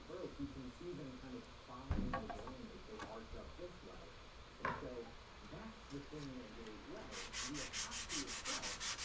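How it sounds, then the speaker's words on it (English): Hand sanding a carved wooden seat on a mid-century modern counter stool: steady, rasping back-and-forth rubbing strokes, close and moderately loud, with a few sharp knocks and some rhythmic ticking near the end. "You know how to sand things."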